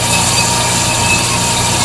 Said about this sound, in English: Harold, I'm using the bandsaw.